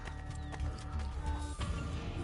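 Hooves clip-clop in a quick rhythm under steady music in Assassin's Creed Brotherhood, with a few heavier thuds mixed in.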